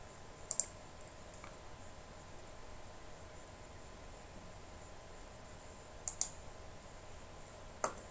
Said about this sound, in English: we have to delete it by just double clicking on it